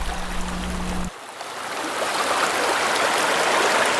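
A fast, shallow stream in Colombia rushes below a rock dam, a steady broadband wash of water. A low droning hum cuts off after the first second, leaving the flowing water alone.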